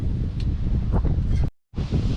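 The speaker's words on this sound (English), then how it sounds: "Oh, it's so windy out here" Strong wind gusts ahead of an incoming storm batter the microphone outdoors in a loud, continuous low roar, cutting out briefly to near silence before resuming.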